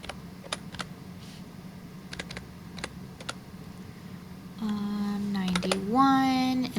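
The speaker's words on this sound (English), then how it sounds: "So give me a moment to type all this in." Sparse, irregular keystrokes tapping on a computer keyboard in a quiet room, followed by a steady tonal hum with a short rising tone near the end.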